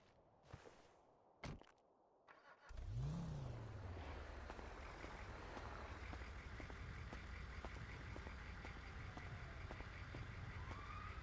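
A loud ambulance siren in a GTA role-play video game wails continuously over steady engine and traffic rumble, following a few brief thumps at the start.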